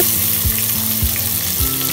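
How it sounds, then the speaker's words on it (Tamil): Steady sizzling of cinnamon, cloves and cardamom in hot oil, loud and close, with a few soft clinks and stirring sounds; no voices. "எண்ணெய் சூடானதுக்கப்புறமா பட்டை கிராம்பு ஏலக்காய் போட்டு தழிச்சிக்கோங்க"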